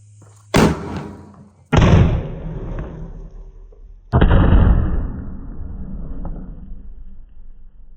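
Three sharp low-bursting blasts from a 3-piece sky shot firecracker at Diwali, each loud crack spaced a couple of seconds apart and trailing into rumbling echo and crackle outdoors.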